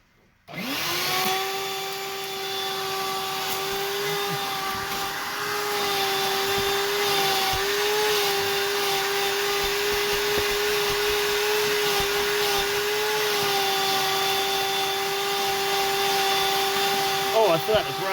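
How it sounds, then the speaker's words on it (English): A shop vac starts up and runs with a steady, loud whine while it vacuums the interior of a 1997 Mustang GT, and a voice speaks faintly under the motor. "grab a vacuum, shop vac"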